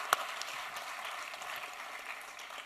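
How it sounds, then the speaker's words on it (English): A studio audience on a talk show applauds in a soft, steady wash of many hands clapping, heard faint and somewhat distant, with one sharper click near the start. "Can we give him a round of applause for that?"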